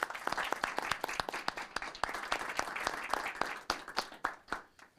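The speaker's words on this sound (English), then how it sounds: "if we could give them a big round of applause as they come up" Audience applause at a city council meeting, fairly faint, with distinct individual claps in a quick uneven rhythm that grows sparser near the end.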